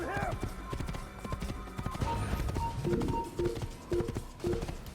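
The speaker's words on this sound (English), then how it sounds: "That's the benefit of this area, because you have the horse." Horse hooves clip-clopping at a quick pace in an Assassin's Creed video game, a steady run of close thuds with game music tones, and someone talking over it.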